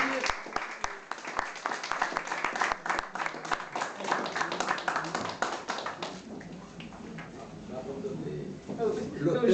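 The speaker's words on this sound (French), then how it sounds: "On va applaudir." An audience at a cultural association talk applauds, sharp individual claps at first then blending into a denser wash of clapping with some murmuring underneath.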